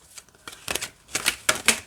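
Tarot card deck being shuffled: a run of soft riffling bursts, several quick papery flurries close to the microphone, no talking.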